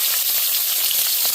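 Food sizzles steadily as it fries in garlic butter, a dense, even crackle held close throughout the moment with no talking over it.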